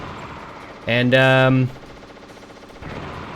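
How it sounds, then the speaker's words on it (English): Vulcan Raven's heavy aircraft-style cannon in the Metal Gear Solid video game lets off one short, loud, buzzing burst of rapid fire lasting under a second, with a voice briefly heard around it. "he's got a cannon that belongs on an F-16"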